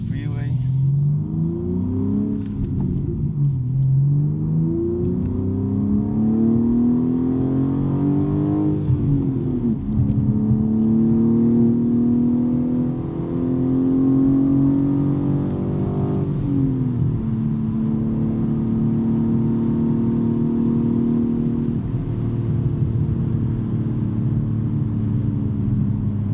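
A BMW M3 with a six-speed manual cruises down a freeway, its exhaust droning steadily as revs climb and drop through several gear changes, with a constant road rumble underneath.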